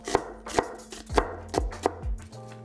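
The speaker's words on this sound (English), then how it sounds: "We'll chop the onion into thin slices." A knife slices an onion thinly on a cutting board, crisp repeated chops in an uneven rhythm, about seven strikes, close and clear with no talk.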